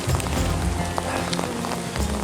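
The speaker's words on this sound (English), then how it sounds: "It is pouring down rain and it's ice." Icy rain pours down hard near the North Fork river in gold country, a thick, continuous patter of drops hitting close surfaces, with scattered sharper taps.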